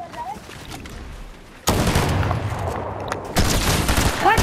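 Video game gunfire in a ranked match, bursts of rapid shots and sniper fire breaking out suddenly and loudly after a quieter stretch, with players talking over the action.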